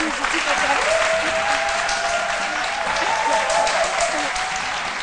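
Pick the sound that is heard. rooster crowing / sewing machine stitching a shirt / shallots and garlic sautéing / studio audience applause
studio audience applause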